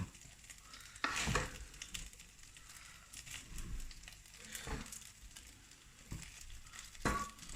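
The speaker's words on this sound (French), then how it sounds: "Et là, vous mélangez bien" Rice mixture being stirred in a hot frying pan for beef lok lak: soft scraping strokes and a low sizzle, with a few louder spoon clatters near the start and the end, close and fairly quiet.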